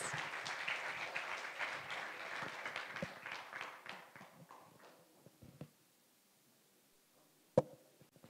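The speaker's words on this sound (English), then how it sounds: "Please give another big round of applause for our moderator and panelists." An audience at an Erasmus+ programme conference claps for a moderator and panel, the applause fading out over several seconds into a few scattered late claps and then near silence.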